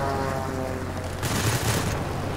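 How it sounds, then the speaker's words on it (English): Rocket fire in the World of Warplanes air combat game, a dense rumbling burst of explosive whooshes and booms that swells loud in the second half over continuous engine drone. "Guy tried to rocket me."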